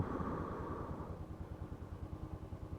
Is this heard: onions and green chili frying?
no